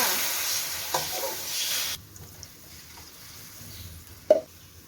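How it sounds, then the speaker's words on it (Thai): Marinated pork stir-fries in a pan with smashed garlic, a bright sizzle that drops sharply after two seconds, leaving quieter crackle and a sudden clatter near the end. "แล้วเราก็นำหมูที่เราหมักไว้นะคะ ลงไปผัด"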